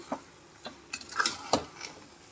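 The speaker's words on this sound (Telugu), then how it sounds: "ముందుగా వేయించి పెట్టుకున్న జీడిపప్పులు కిస్మిస్లు కూడా వేసుకొని ఒకసారి బాగా కలిపేసుకోవాలి" A spoon stirs sweet flattened-rice pongali with fried cashews and raisins in a pan, producing a few scattered close scrapes and light clinks against the metal, irregular and fairly soft.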